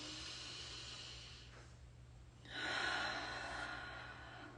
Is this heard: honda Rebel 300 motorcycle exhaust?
no